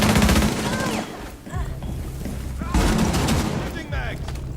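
Rapid gunfire from Rainbow Six Siege rattles in loud, dense bursts, pausing briefly mid-stretch before resuming, with game voice lines heard over the shooting.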